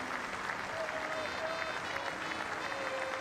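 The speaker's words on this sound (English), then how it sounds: "Root takes the applause from another good crowd here at the Basin Reserve" Spectators at the Basin Reserve in Wellington applaud steadily as Joe Root reaches a Test century, a continuous, even wash of clapping heard from a distance with a commentator's voice faintly beneath.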